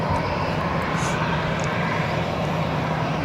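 An Air France Airbus A321 jet, 31 years old, departing for Charles de Gaulle, with a loud, steady roar of engines that holds unbroken and close throughout.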